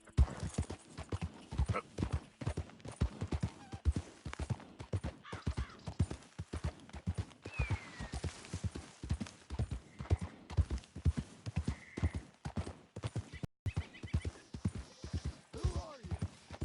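In Red Dead Redemption 2, a horse gallops with a fast, steady drumming of hoofbeats that runs throughout, joined by brief faint whinnies and snorts along the way.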